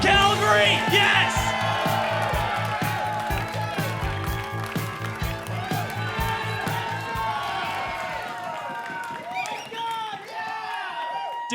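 A comedy club audience in Calgary claps and cheers loudly for a comedian, with sustained applause and whoops that taper off near the end as a voice comes in.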